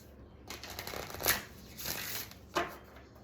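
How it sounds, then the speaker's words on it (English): Tarot cards shuffled by hand in a few quick riffling bursts, with soft papery rustling between louder snaps, close up and with no talking. "Today I'm going to be pulling cards for Scorpio."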